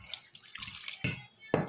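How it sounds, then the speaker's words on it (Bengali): Water is poured in small additions into rice-flour batter for spicy jhal khola pitha, with brief splashing and trickling bursts close up, the last two louder and sharper. "এখানে আরেকটু আমি পানি দিচ্ছি"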